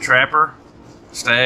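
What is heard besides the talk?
None of the usual background noises is heard.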